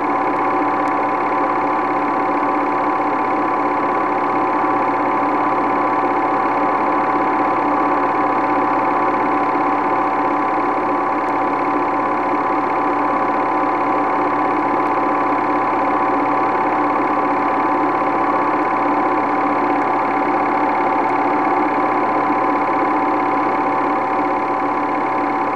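Old home-movie motorboat engine drones steadily at a constant pitch as the boat crosses a wake, the hum loud and unbroken throughout with no talk.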